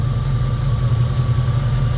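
A 2002 Jeep Grand Cherokee 4.7 engine with a cylinder 3 misfire idles with a low, steady rumble from the exhaust, close and loud, with no one talking.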